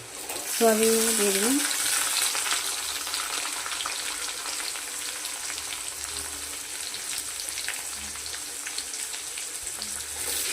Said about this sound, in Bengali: আলুটা আমার ভাজা হয়ে গেছে। এবার আমি সয়াবিনগুলো দিয়ে দিলাম,